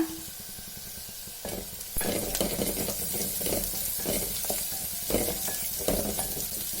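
Drumstick leaves stirred into a pan of lightly golden fried onion, a soft steady sizzle with scraping stir strokes growing busier partway through, close and alone.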